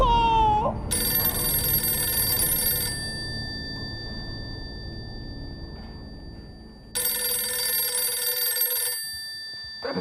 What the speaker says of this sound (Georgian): ტელეფონია?